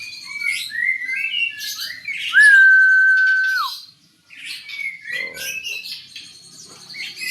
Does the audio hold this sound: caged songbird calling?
yes